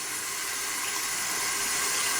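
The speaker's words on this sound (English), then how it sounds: "a little bit of splashing is not going to hurt this thing" Water splashing over an Olight Olantern Mini lantern, a steady broadband wash like running tap water, close and continuous for the whole stretch with no talk.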